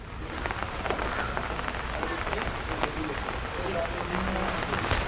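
Rain falls steadily outside an NRC service centre in Assam, a continuous dense patter of drops on surfaces while a voice talks over it.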